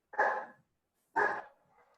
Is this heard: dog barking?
yes